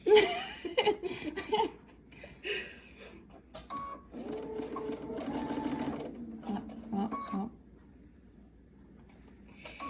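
Sewing machine stitching a fabric face mask up to the opening, running in short bursts and longer steady stretches that stop and start, with brief talk and light laughter between runs.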